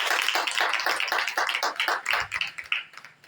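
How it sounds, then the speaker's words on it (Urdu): A church congregation gives loud applause, a dense run of rapid hand claps that swells and then thins out toward the end, with no voices over it. "زوردار تالیاں یسوع مسیح کے جلال کے لیے"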